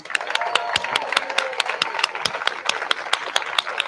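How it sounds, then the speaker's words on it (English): A crowd at a peace demonstration applauds steadily, dense overlapping claps with sharp individual hand claps standing out, fairly close and sustained throughout. "Let's do one more round of applause for Diane."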